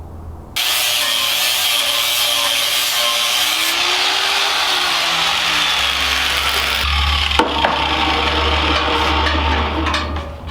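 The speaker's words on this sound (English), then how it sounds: "We're just trying to take the tiniest little bit of metal off so it's not interfering." A power tool grinds a little metal off the rails of a battery box in a Tesla-powered Volkswagen Vanagon, a loud, steady, harsh whine that runs almost the entire time with a brief shift partway through.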